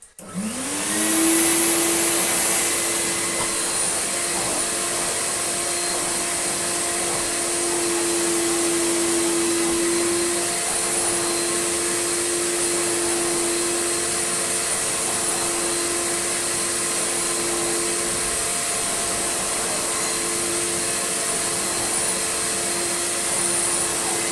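A Numatic CDT-570 vacuum cleaner from around 1993, restored, running with a cheap pattern-part modern-style floor head: a loud, steady motor whine and rushing suction that spin up at once and hold evenly throughout, alone and close by.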